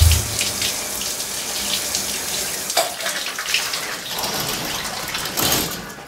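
A shower runs in a radio drama scene, a steady hiss of falling water with a faint knock partway through and no talking.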